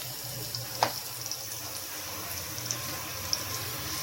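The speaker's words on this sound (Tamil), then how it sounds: "இதை அப்படியே கொஞ்சம் நெய்யில் நல்லா வேகட்டும்" Fruit frying in ghee for a Tamil New Year payasam gives off a steady, soft sizzle close by, with one brief utensil clink and no talking.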